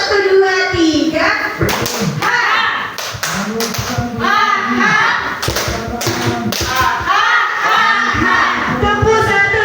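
A classroom of children claps in counted rhythmic sets during a clapping game, loud sharp hand claps in repeated groups mixed with a teacher's voice and children speaking.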